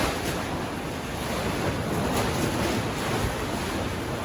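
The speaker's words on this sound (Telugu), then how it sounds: "గాలి ఘోరం వస్తుంది అనమాట ఇక్కడ." Strong wind roars steadily against the microphone, a broad rushing noise with the sound of waves or surf behind it.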